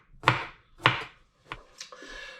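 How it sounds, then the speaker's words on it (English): A knife cuts through carrots on a board in four or five separate sharp, close chops spaced about half a second apart, with quiet gaps between them. "I'm going to begin by cutting up 4 carrots."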